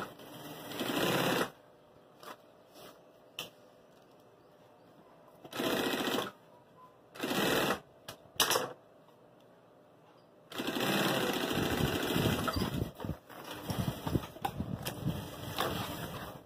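A sewing machine stitches through a document folder, running in several short bursts and then a longer continuous run, close and fairly loud, with pauses of quiet between.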